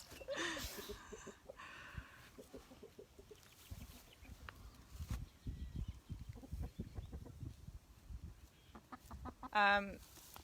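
Brown hens, former meat birds now about four years old, cluck and call repeatedly at close range in a farmyard, with a sharper squawk near the end.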